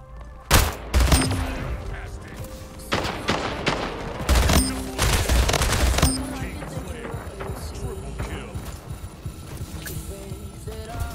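Rapid bursts of submachine gun and other weapon fire in the Splitgate shooter game, loud and close with dense volleys and sharp individual shots, while a player talks over the action.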